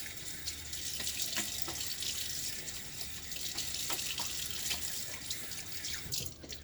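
Water streams steadily from a bathroom tap as a safety razor is rinsed under it, a continuous close splashing hiss with a few small clinks, running alone without talk.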